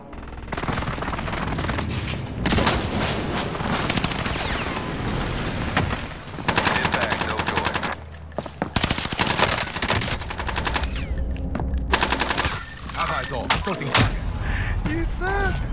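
Airstrike in Call of Duty: Modern Warfare, heard as loud, dense bursts of gunfire and heavy explosive booms rolling almost nonstop, with radio-style voice chatter mixed under the barrage.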